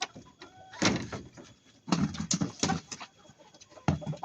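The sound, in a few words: native chickens clucking during deworming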